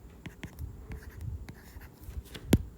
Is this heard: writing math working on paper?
yes